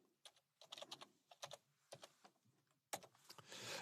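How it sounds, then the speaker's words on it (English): Keystrokes on a computer keyboard, a quick uneven run of soft clicks in short bursts, close and quiet, with a slightly louder flurry near the end. "I'll just type in something like quarters."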